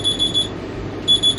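On a boat travelling the Great Loop route in South Carolina, a reminder alarm to take readings sounds as rapid, shrill electronic beeps in two short loud bursts with a pause between them.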